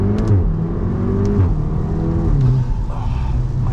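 A Stage 2 Volkswagen Golf R pulls hard from a rolling start on a rainy road, its engine note rising and shifting through gears in a loud, close interior rush.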